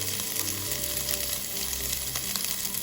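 Oil sizzles in a heated pan in a home kitchen, a continuous bright hiss with crackling bursts, steady and close throughout, alongside a low humming tone.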